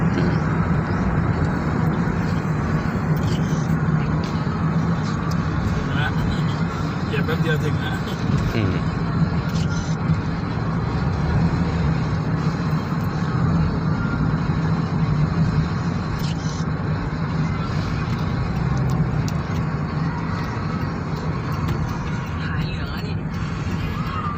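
A Hyundai H1 Elite van engine with a modified muffler makes a steady, rumbling drone throughout, loud and close, with a low throaty tone and no pauses.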